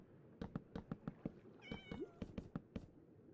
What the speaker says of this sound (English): Was that a cat?